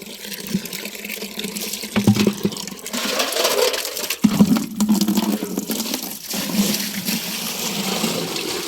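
Tap water pouring into a bucket for a cow, a rushing, splashing flow that swells and fades with brief knocks, close and moderately loud.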